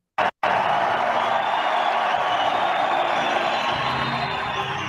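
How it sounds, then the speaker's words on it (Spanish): Stadium crowd roaring in a sustained ovation with applause, a dense steady wall of cheering and clapping that holds loud and unbroken after a brief opening burst. "Lo van a notar con el nivel de ovación y de aplausos."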